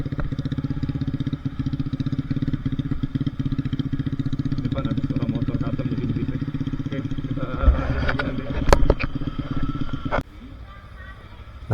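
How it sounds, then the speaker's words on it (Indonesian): A loud custom motorcycle rides just ahead on a road trip along Indonesia's southern coastal route, its engine a steady rumbling drone throughout, rising with a few sharp bursts near the end, with some talking mixed in. "Depan ada suara motor custom jadi berisik."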